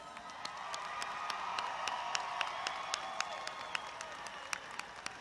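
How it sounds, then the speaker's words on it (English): Audience applause at a high school graduation ceremony at Fort Campbell High School, a steady wash of clapping from a large crowd with sharp individual claps standing out, moderately distant and sustained throughout. "Let's give them another round of applause."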